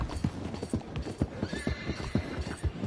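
Horse hooves clip-clop steadily at a trot, close by, with a whinny rising partway through, in the video game Red Dead Redemption 2.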